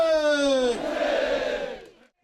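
At a March 1st Independence Movement Day reenactment in Jeonbuk, citizens waving Korean flags raise a long shouted cheer together. It opens as a sustained chorus of voices, then dissolves into a rough, swelling crowd roar that fades out.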